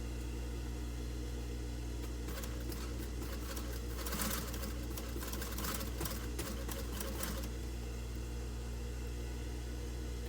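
A sewing machine runs a zigzag stitch on swimwear, a steady mechanical hum with a rapid rattling needle patter that swells in the middle, the machine running slowly and missing a spring.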